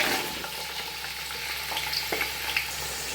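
Sliced onions fry in hot oil with a steady broadband sizzle, faint stirring clicks scattered through it, close and continuous with no talking.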